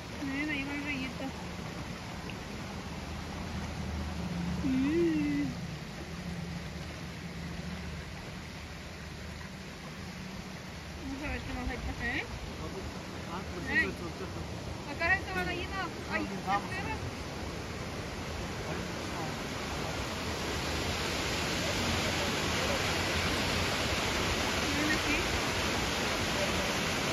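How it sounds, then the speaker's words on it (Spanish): Small stream flowing outdoors near a camp house, a steady broad rushing wash that grows louder toward the end, with people talking and calling over it. "Miren, aquí va un rillito."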